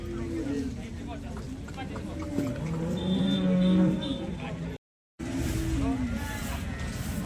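A cow moos in a long, low drawn-out call at the Sangola cattle market, moderately close, with engine-like rumble and people talking in the background.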